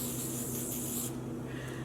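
A spray bottle hisses dye onto knitted sock blanks in a steady, close burst that cuts off partway through, leaving a quieter background.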